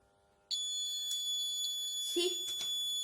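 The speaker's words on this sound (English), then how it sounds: "As soon as it gets heated, the buzzer will start beeping." A homemade heat-triggered fire alarm's shrill, piercing buzzer switches on abruptly and sounds continuously, with a voice speaking briefly underneath.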